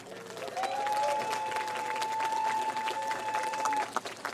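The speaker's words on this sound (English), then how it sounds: "Let's give this group a round of applause already" A school jazz band audience at a music festival claps steadily in a dense, even round of applause, with a sustained tone held underneath.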